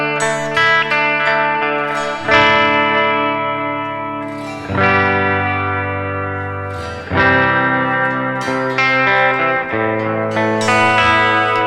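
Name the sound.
clean electric guitar through Deluxe Reverb amp model, Nux Trident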